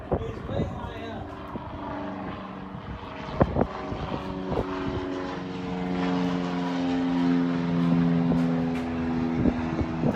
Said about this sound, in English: Oh look, airplane is way high up.